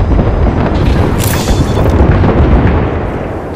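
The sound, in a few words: airstrike explosions in the Apex Legends video game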